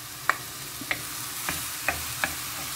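Onion and tomatoes frying in a pan for stuffed caigua, a soft steady sizzle marked by five evenly spaced sharp taps of a utensil against the pan, with no speech.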